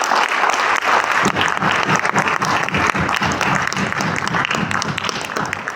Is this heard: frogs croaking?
no